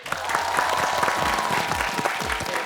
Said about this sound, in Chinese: 掌声欢迎一姐